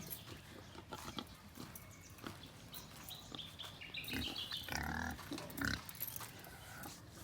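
Pampanga Native crossed with Quezon Black pigs on a farm, giving a few short grunts and squeals in the middle of steady outdoor ambience, fairly close and moderately loud.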